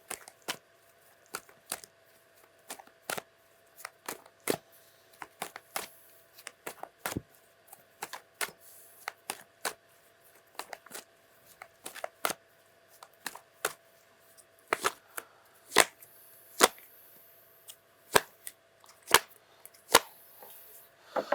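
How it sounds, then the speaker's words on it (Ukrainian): A candle crackles with faint, irregular sharp pops and ticks scattered over an otherwise quiet background. "Почала тріщати свічка."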